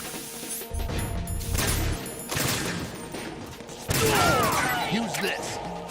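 Gunfire from the PS2 game Metal Gear Solid 2 comes in loud, dense bursts and rattling volleys mixed with other in-game crashes and effects, while a voice talks over it.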